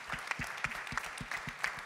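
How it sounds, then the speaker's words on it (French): Brief, soft applause from a small audience at a conference opening plenary, a short run of rhythmic claps heard at some distance. "on peut évidemment l'applaudir"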